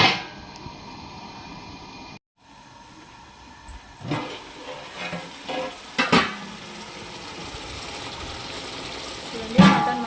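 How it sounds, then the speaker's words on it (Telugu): Mutton curry simmering in a covered handi, with a steady low bubbling and sizzle, occasional lid and utensil knocks, and a brief silent break early on. "చూడండి మటన్ మంచిగా ఉడుకుతుంది కదా."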